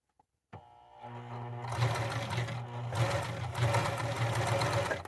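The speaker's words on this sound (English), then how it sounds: "if you have a zigzag stitch on your sewing machine, now's the time to switch to the zigzag stitch." Sewing machine running a zigzag stitch along a seam on a summer headband, starting after a short pause and humming steadily and close with a rapid mechanical rhythm throughout.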